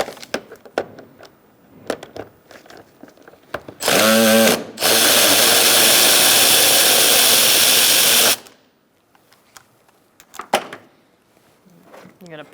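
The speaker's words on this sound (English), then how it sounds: "Now we're going to take out these two bolts using a 10mm socket." A power tool with a 10mm socket spins out bolts on a 2002-2006 Toyota Camry 2.4, two loud close whirring bursts, a short one then a longer four-second run, between clicks and handling noises.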